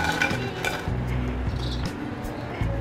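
Freshly fried masala french fries scooped from a pan into a dish, with scraping and clinking of metal utensils against cookware in short bursts, faint and close, and light sizzle underneath.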